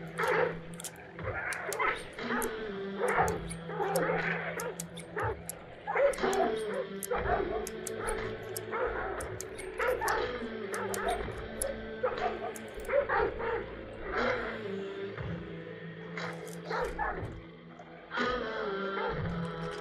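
Dogs barking, yipping and whimpering in the horror shooter game Hunt: Showdown, a steady run of sharp, fairly close barks across the whole stretch over a low ambient game background.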